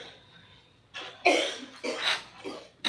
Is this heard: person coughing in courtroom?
yes